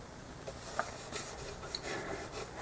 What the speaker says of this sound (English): I'm going to round the edges over so it doesn't look like somebody's just stuck a new pick guard on it